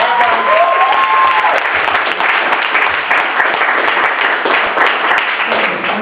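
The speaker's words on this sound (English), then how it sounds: "So give a round of applause for Al" A crowd gives a loud, sustained round of applause for an artist presenting his drawing, many hands clapping densely and evenly for several seconds without pause.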